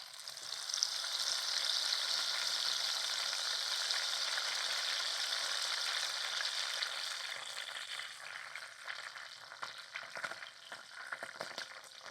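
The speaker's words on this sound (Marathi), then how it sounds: "तूप कडत आला आता त्यात एक खायचं पान टाकायचं आणि तुळशीची 2-4 पानं टाकायची" Betel and tulsi leaves dropped into hot ghee being heated for clarifying homemade butter sizzle and fry steadily, a loud crackling hiss that gradually fades into scattered pops and crackles.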